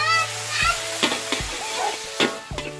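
Noodle-less seafood pad thai stir-fried in a pan with oyster sauce: scattered spatula clanks and scrapes over a low sizzle, close, with a faint background tone.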